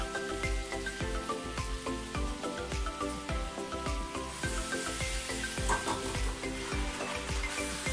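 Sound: stirring sauce with mirin and sugar in pan

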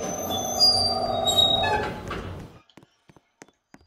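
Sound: train passing in a video game elevator

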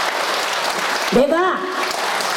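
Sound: audience clapping at show

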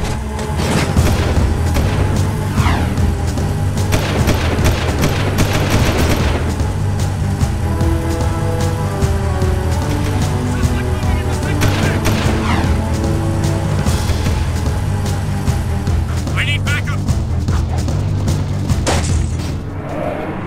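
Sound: gunfire from Jak II video game

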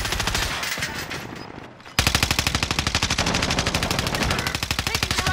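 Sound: machine gun fire in a video game

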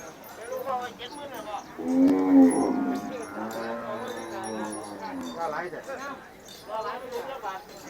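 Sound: cattle mooing at a cattle market

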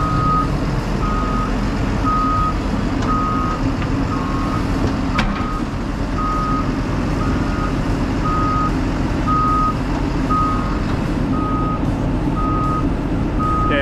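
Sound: huge forklift reversing beeps while being pulled out

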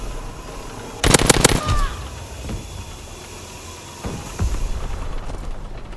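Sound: gunfire in the video game Call of Duty: WWII

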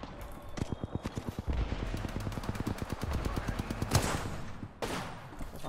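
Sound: gunfire in Apex Legends video game

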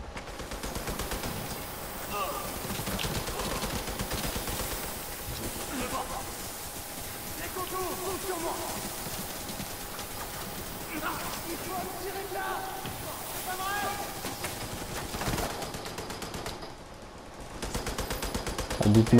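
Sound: machine gun fire in video game The Division 2

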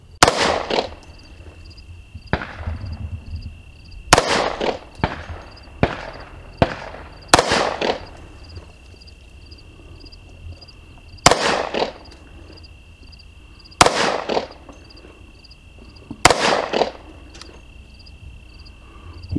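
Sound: gunshots from a 10mm STI pistol on a Ransom steady rest

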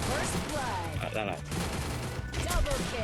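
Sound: gunfire in a video game

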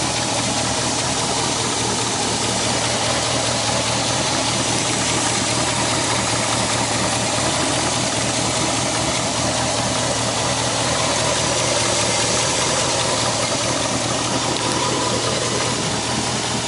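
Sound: 1961 Buick Le Sabre nailhead V8 engine idling

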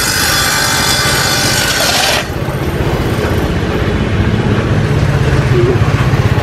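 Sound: construction work laying marble

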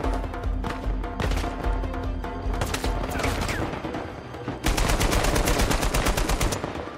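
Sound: gunfire in video game Uncharted 4

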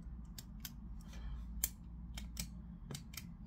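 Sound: Parker Jotter pen clicking

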